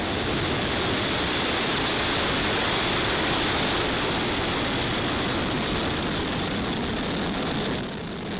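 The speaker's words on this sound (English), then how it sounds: "Ignition and liftoff." A SpaceX Falcon 9 rocket on a Starlink mission ignites and lifts off, heard as a loud, dense, continuous roar that holds steady throughout and eases slightly at the very end.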